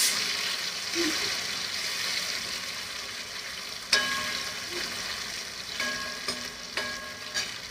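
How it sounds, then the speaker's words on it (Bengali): Potatoes frying in a pan give a continuous hiss and sizzle, with a few sharp metallic clinks and scrapes of a utensil breaking through at intervals. "আলু সব ঢেলে দিলাম, আলু সব ভাজতে বসিয়ে দিলাম"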